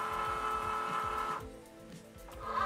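A Cricut Joy cutting machine whirs as its motor draws the cutting mat in, a steady mechanical hum with rhythmic clicking that drops away partway through, then starts up again at the end.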